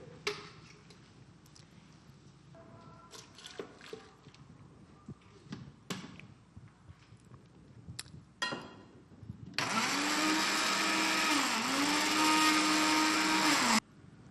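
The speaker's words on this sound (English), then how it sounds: "And the aipim goes into a blender." An electric blender pureeing cooked aipim (cassava) in a home kitchen starts after some clattering and handling noises, then runs as a loud, steady whir for about four seconds before stopping.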